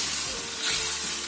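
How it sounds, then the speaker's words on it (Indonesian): Coconut milk poured onto cooked spice paste in a hot pan for cassava leaf gulai, giving a steady, fairly loud sizzling hiss with a brief dip midway. "Setelah dirasa bumbunya matang, ini kita tambahkan santan."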